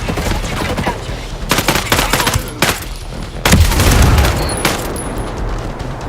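Gunfire and a frag grenade blast in the video game Ghost Recon Breakpoint: rapid, loud bursts of shots in irregular clusters, with a heavier booming hit partway through and clattering shots around it.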